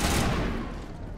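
A burst of gunfire in Mass Effect Legendary Edition opens loud and noisy, then fades over about a second.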